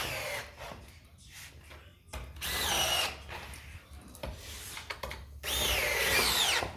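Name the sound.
power drill tightening wood screws into a table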